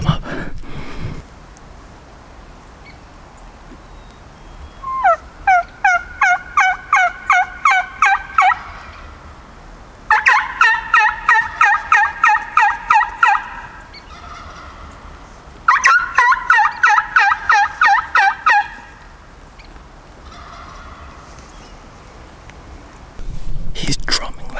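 Three long, pulsing bouts of wild turkey calling ring out over an outdoor backdrop after a rainstorm, each a rapid string of sharp notes, while people whisper quietly underneath.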